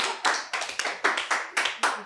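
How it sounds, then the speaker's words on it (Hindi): A small group of people claps for a team member, about eight crisp, fairly even hand claps in quick succession, close and lively, with no talking over them. "तालियां बजा सकते हैं लोग"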